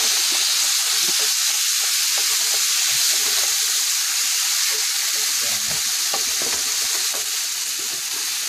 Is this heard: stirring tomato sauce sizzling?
yes